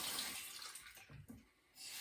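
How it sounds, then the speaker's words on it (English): Tap water running over hands to rinse off shaving soap, a faint, soft splashing stream that dips briefly then swells again. "Better rinse that off."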